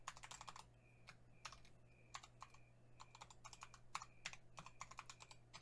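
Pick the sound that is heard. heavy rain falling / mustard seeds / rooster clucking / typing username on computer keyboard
typing username on computer keyboard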